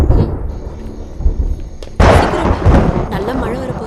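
Deep rumble of thunder before a sudden downpour in a Tamil movie scene, a low rolling growl followed by a loud crack and broad rushing noise, with voices heard faintly.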